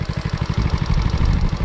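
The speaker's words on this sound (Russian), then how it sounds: "Настолько приятный мопед" A Honda Delta moped engine runs close by with a quick, even putter at a steady low throttle.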